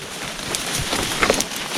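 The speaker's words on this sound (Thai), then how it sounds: "ฟ้าบดฝนตกจะนี่" Rain falling outdoors in a forest during a storm, a steady broadband hiss of drops close by with a few brief louder patters, no voices.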